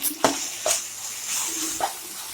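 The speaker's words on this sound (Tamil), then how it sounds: "ரொம்ப வதங்கணும்னு தேவையில்லை லைட்டாக வதங்கின போதும் இஞ்சி பூண்டு அப்படியே ஃப்ளேவர் வரணும் கருவேப்பிலை போட்டுடலாம்" Ginger, garlic and curry leaves sauté in a pan for a country chicken dish, sizzling steadily with a few sharp scrapes and clatters of stirring close by.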